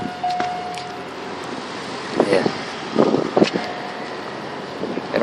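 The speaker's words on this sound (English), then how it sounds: "the wind will probably be pretty loud, so I apologize ahead of time for the wind" Wind buffets a microphone outdoors beside a car, with low rumbling gusts that swell in bursts toward the middle and end, under a brief spoken word.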